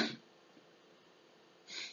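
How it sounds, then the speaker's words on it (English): A hard sneeze is cut short at the start, then near silence, and a second breathy burst rises at the end, close and fairly faint, during a live-streamed online game session. "You sneezed so hard, your stream froze."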